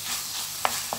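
Chicken and onion frying in a pan, a soft steady sizzle with two brief stirring scrapes near the end, close and quiet.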